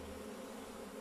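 A honeybee swarm buzzes as a steady, dense drone, faint and unbroken, with no voices over it.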